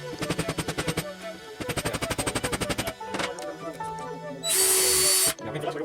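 Rapid bursts from a power stapler or staple gun driven into a disc for a homemade barbed wire bat, two long rattling runs followed by single clacks and a loud harsh burst near the end, close and alone.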